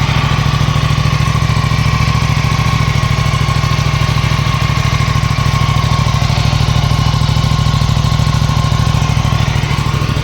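An Aprilia Tuono 457 motorcycle idles close by with a steady, even engine rumble and a constant tone that runs unbroken for the whole stretch, with no talking.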